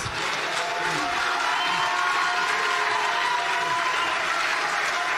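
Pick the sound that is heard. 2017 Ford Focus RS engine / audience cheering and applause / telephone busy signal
audience cheering and applause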